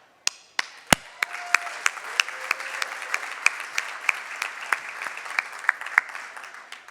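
An audience at a celebration honoring Governor Josh Shapiro applauds with sharp, distinct claps that settle into a steady rhythm over a softer wash of clapping, fairly quiet and without talk.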